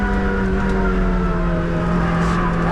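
A Toyota Celica's engine held at full throttle around the Nürburgring: a loud, steady in-car drone with strong layered harmonics that climb slightly, with no pause for braking.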